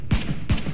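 Two gunshots fire in the video game PUBG, about 0.4 seconds apart. Each is a sharp, close report with a low thump and a brief tail, and nobody speaks.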